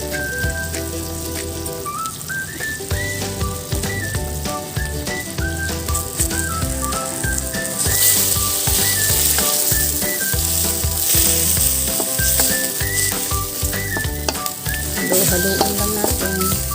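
Four medium chicken hotdogs fry in a pan with a steady loud sizzle, heard beneath backing music with a regular beat that plays throughout.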